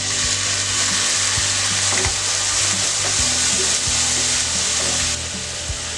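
Egg fried rice with onion greens and soy sauce being stir-fried in a pan, a loud steady sizzle with repeated scraping and knocks of a spatula against the pan, no voices.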